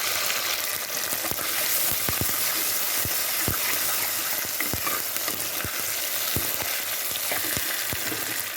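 Tomato and dal hit a hot pan for a fish curry, giving a steady, loud sizzle and hiss throughout, with sharp crackles and pops scattered across the whole stretch and no voices.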